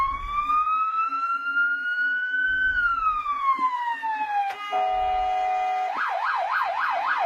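A loud ambulance siren in Algeria passes close by, first in a slow wail rising and falling, then switching to a steady two-tone blare and finally a rapid yelp, over low road traffic noise.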